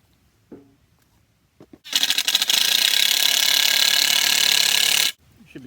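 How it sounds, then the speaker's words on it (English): A power drill drives construction screws to join boards for a dip table build, a loud continuous whirring rattle lasting about three seconds after a few brief clicks and taps. "just screw them together right here"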